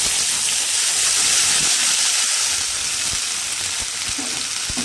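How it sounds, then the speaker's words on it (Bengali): Whole spices temper in hot oil, a loud dense sizzle crackling steadily throughout with small pops, no voices. "ফোড়ন দিয়ে ফোড়নটা কিন্তু সুন্দর করে ভেজে নেব"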